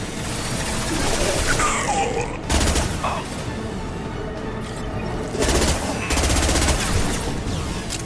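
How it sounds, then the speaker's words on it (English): Heavy, high-impact gunshots in the Mass Effect 2 video game: a dense, loud fusillade of repeated blasts with booming bursts, mixed with battle noise and occasional voices. "Firing a high impact shot"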